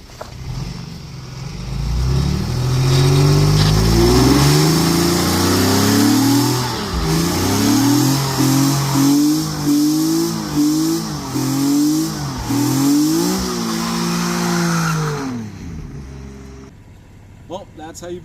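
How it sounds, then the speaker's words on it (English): An all-wheel-drive Infiniti G37x does a burnout, its engine revving loudly and holding high with rising and falling pitch sweeps for about fifteen seconds before cutting off abruptly. "do a burnout in an all-wheel drive Infiniti G37"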